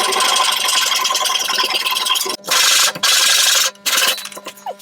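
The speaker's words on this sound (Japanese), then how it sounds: "伸びているところをカットします。" A protruding edge of scrap wood panel is sawn off during a van slide-out build, heard as a smooth rasp followed by loud, rhythmic back-and-forth saw strokes with short pauses between them.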